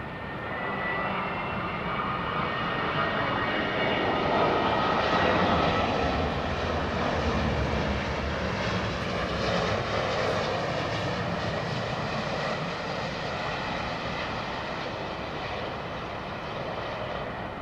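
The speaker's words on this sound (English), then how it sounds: "This is Gulf Air's Dreamliner." A Gulf Air Boeing 787 Dreamliner jet passes at London Heathrow Airport, a steady broadband engine roar that swells slightly midway and then fades gently, heard from a distance with no voices over it.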